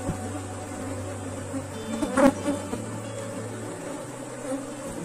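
Honey bees buzz around an apiary hive while frames are handled, a dense steady droning hum from many insects close by, with a brief clunk of equipment partway through.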